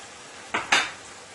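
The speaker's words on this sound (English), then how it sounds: "into my pan here, I have some nice fire roasted tomatoes, crushed tomatoes. I'm going to be adding a little of that to my pan." A utensil scrapes twice against a frying pan as fire-roasted crushed tomatoes go in, two short close bursts a fraction of a second apart over a quiet background.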